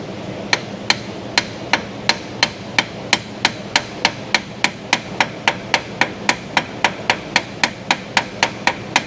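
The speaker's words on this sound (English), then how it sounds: "Let's try to hammer it on just a little bit." A hammer taps metal on a Ford 5.4 Triton 3-valve engine during timing chain repair, in a steady, even rhythm, about three sharp strikes per second, close and alone.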